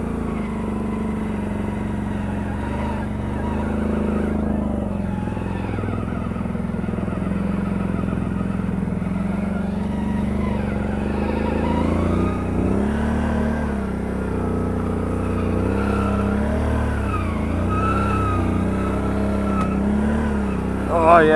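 An ATV on 31-inch MotoHavok tires rides a muddy, rutted, overgrown trail. Its engine drones steadily and close for the whole stretch, with revs rising and falling over the ruts.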